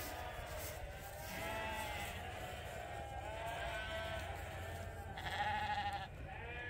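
Sheep on a farm bleat repeatedly while being herded in for the night, several overlapping wavering calls, some near and some farther off, over steady outdoor background noise.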